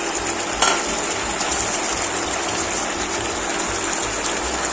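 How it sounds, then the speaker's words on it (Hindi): Mutton sizzling as it is browned in a pot with a little raw onion added for handi mutton, a steady, close hiss of frying running unbroken from start to finish with a single brief clatter near the start. "मटन को भूनते भूनते इसमें हम लोग कच्चा ऑनियन भी थोड़ा सा डाल देंगे।"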